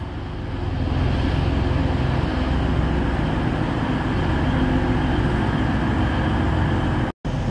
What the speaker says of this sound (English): Now arriving very early is the 1312 Transpan Express service to Hull, with 185107 leading the way.